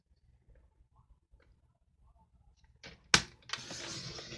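A blade trimmer slices through card stock for a card base: faint taps first, then a sharp snap and a short scraping slide as the cut is drawn through, close and quiet.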